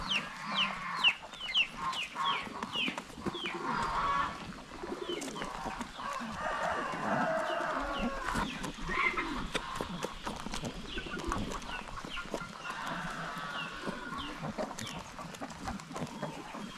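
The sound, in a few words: chickens clucking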